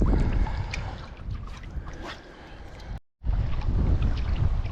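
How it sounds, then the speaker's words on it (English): Steady wind buffets the microphone outdoors during fly fishing, a continuous broadband rush with gusts that briefly cuts out before roaring back up. "Wow, that wind, eh?"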